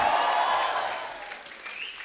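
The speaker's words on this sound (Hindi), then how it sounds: "आप सबकी जोरदार तालियों के बीच प्लीज वेलकम फिल्म के डायरेक्टर मिस्टर अनुभव सिन्हा" A television comedy talk-show studio audience applauds as guests walk on, a full burst of clapping that tapers off over about two seconds, with faint music tones underneath.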